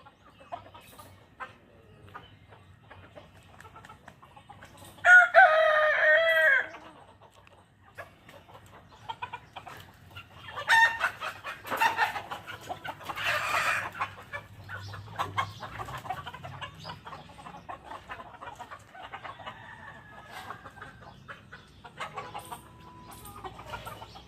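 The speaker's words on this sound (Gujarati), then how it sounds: "જોઈ શકો છો તમે બધા મારા દેશી કૂકડા." Desi roosters on a farm let out a loud, close crow, then go on with scattered clucks and softer calls over a quiet rural background.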